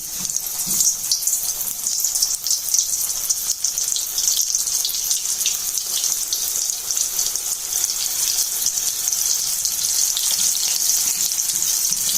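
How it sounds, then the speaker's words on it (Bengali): Chicken legs frying in hot oil make a steady, bright, crackling sizzle that runs unbroken and fairly loud throughout. "তেলটা গরম হয়ে গেছে আমি এখন চিকেন ফ্রাই করার জন্য লেগসগুলোকে দিয়ে দেবো এখানে"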